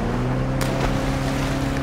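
Boat engine droning steadily in the A Way Out video game, a loud, close, continuous hum with rushing water and wind noise and no talking.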